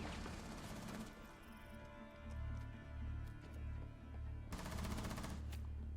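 Gunfire in the first-person shooter Rainbow Six Siege, with bursts of rapid automatic shots and dense crackling over a low rumbling game background, fairly faint and with no voices.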